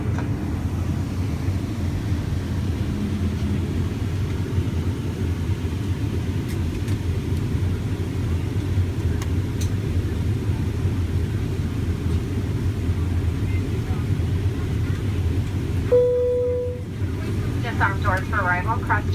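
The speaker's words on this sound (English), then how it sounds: "finally end with us taxiing into our little spot at the terminal" A Southwest Airlines airplane taxis to the terminal, heard from inside the cabin as a steady, loud low rumble throughout, with a brief chime-like tone near the end.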